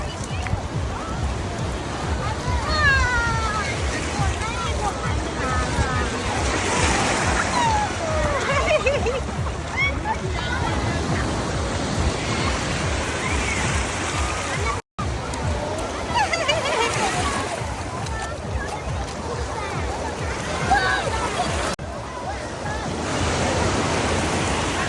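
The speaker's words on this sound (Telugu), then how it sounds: "ఇదైతే హాంకాంగ్లో ఉన్న షేకో బీచ్" Waves at Shek O beach in Hong Kong, a continuous rolling surf roar with surges and some wind buffeting on the microphone, no voices, holding steady apart from a momentary dropout midway.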